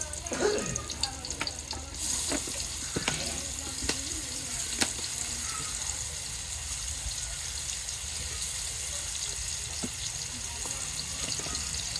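Pumpkin pieces are stirred in a pot over heat, a continuous sizzling hiss with a few scraping and tapping strokes from the spoon near the start.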